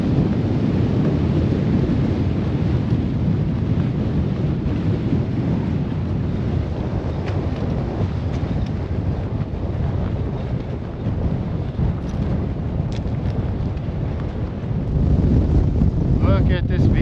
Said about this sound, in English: Currently battling a fierce wind